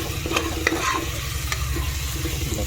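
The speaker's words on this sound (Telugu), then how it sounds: "ఈ టమాటాలు వేసిన తర్వాత మంచిగా ఇలా తిప్పుకోవాలి" Tomatoes stirred into chicken biryani masala in a pot, with a steady low sizzle and repeated scraping strokes of a spoon against the pot, fairly close and alone, no talk.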